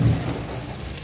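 Chicken pieces dropped into a pan of fried onions for chicken biryani give a loud, dense, steady sizzle that starts strong and holds evenly throughout, with no voices.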